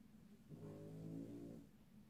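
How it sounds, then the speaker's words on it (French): A dog snores under a chair in a quiet room, one faint, drawn-out rumbling breath that swells and fades in about a second. "Et j'ai mon chien qui ronfle,"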